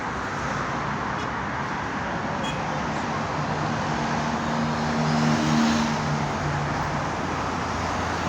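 Steady roar of heavy road traffic on the E5 highway in Bakırköy, Istanbul, a dense continuous wash of passing cars with a faint engine drone rising briefly midway.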